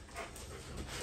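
A golden retriever makes faint, breathy whimpering and panting noises, soft and close, in short uneven bursts with no one speaking.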